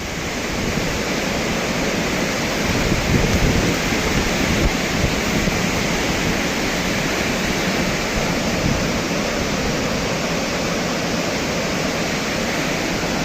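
Thomson's Falls, a 74-metre waterfall in Nyahururu, Kenya, roars as a constant, loud, broadband wash of falling water, steady and unbroken, with no voices.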